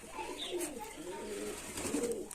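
Giribaz pigeons at a long-time pigeon keeper's loft coo softly and repeatedly, with steady low murmuring calls over a faint background hum.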